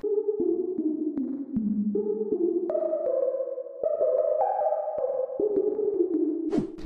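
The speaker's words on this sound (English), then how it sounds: "I'm gonna start this beat with a synth sound, and I'm gonna load up my most trusted synth, Massive." A detuned lead from the Massive software synth, low-pass filtered, plays a flowing melody of connected notes for a trap-style beat. The sound is steady and moderately loud, with no voices over it.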